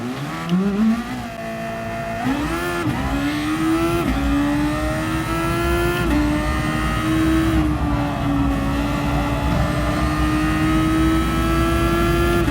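A DGT THOR race car engine screams through a lap of the Maggiore circuit in a racing game, loud and close, revving up through several gear changes with rising pitch, then holding a steady high drone.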